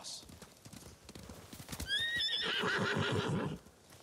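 A samurai horse in Ghost of Tsushima trots with steady hoof clip-clops, then lets out a loud, drawn-out neigh as its hooves keep pounding. Voices talk briefly over the hoofbeats.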